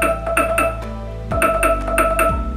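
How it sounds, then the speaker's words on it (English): Alarm from a Google Home Mini smart speaker ringing indoors: a bright, chiming melodic tone pattern repeating in clear, evenly spaced pulses, loud and close with no talking over it. "So, yan na yung alarm."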